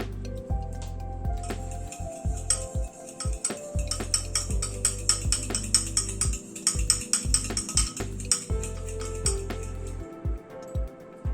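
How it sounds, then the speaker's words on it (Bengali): A spoon whisks yogurt with a little sugar in a bowl while raita is being made: quick, uneven clinks and soft wet scrapes against the bowl repeat in bursts over a steady low background tone. "দইটাকে একটুখানি ফেটিয়ে নিচ্ছি"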